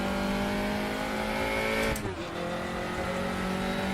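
Engine of a light touring race car in the RaceRoom racing game, a steady sustained drone with strong harmonic hum and a brief dip partway through, loud and close with no talk.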